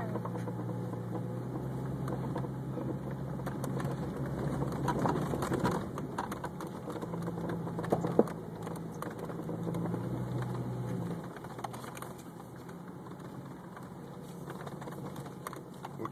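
Engine of a 1998 Jeep Cherokee while driving off-road, a steady low cabin drone with some rattling and a brief bump midway, heard from inside the vehicle.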